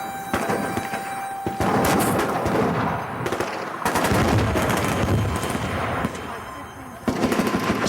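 .50 calibre rifle fire at a shooting range, heard as dense, loud, booming reports with reverberant tails echoing over constant background din, close by; several shots overlap in quick succession.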